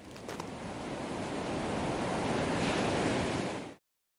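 Ocean waves roll onto the beach at Comillas on Spain's northern coast in a steady, broad wash of surf that swells gently and then cuts off abruptly, with some wind noise and no voices.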